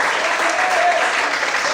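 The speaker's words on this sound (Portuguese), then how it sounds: "eu convido você a aplaudir ao Senhor e glorificar a Deus" Congregation at a church service applauds in worship, a continuous wash of many hands clapping, steady and fairly loud throughout the short stretch.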